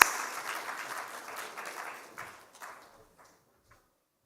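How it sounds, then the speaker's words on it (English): A conference audience applauding the chair and panelists at an international arbitration event, moderate clapping that thins out over about three seconds, leaving a few scattered claps before silence. "So that calls for a big round of applause for the chair and the panelists."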